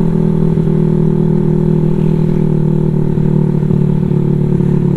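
A Honda Vario 210cc scooter in its break-in period hums along while being ridden, a close, continuous mid-low engine drone with faint rattling throughout.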